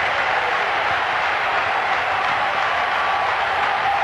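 A packed baseball stadium crowd during a 1997 NLCS at-bat roars in a steady, loud wash of cheering and applause that holds without a break throughout.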